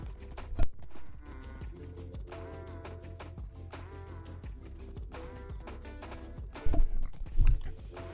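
Horse sounds in Minecraft: a few hoof clops and snorting bursts, loudest near the end, heard over steady game music with no talking.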